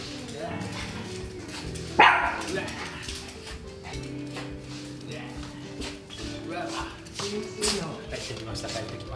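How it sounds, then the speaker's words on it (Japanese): A pet dog named Mugi barks at family members coming home, one sharp loud bark followed by a few softer yips and whines, with people talking over it in a house. "なんで吠える"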